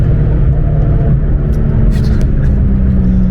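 A Porsche 991 GT3 lapping the Nürburgring during Touristenfahrten gives a loud, steady engine drone with heavy low road rumble heard from inside the car. The sound is continuous and unbroken throughout.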